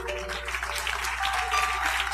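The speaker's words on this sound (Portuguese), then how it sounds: "Os que podem, vamos aplaudir ao Senhor." Church congregation applauding together during a worship service, a steady wash of clapping held at an even level for about two seconds.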